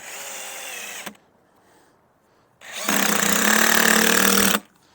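A power drill drives a screw diagonally into a wooden board: a short whir, a pause, then a loud sustained high-pitched drilling burst lasting nearly two seconds before stopping.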